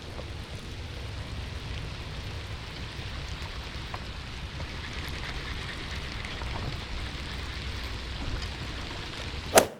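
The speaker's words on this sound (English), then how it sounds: "So as you can tell, it's pouring right now." Heavy rain pours down at a small secluded pond, a steady, fairly soft hiss of drops hitting water and ground, ending with a brief close bump.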